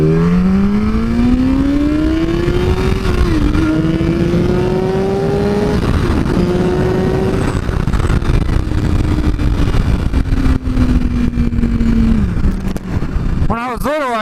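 Motorbike riding along a road, its engine note rising and falling steadily and loud throughout while a car passes close by; an alarm-like warble sounds near the end.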